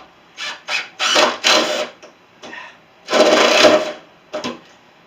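Power drill driving screws into a wooden table during a build, several short bursts of motor whir, a few brief and two longer runs, with pauses between, close up.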